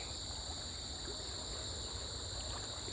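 A small stream trickles through a forest, a steady close babble of running water that fills the whole stretch with no voices.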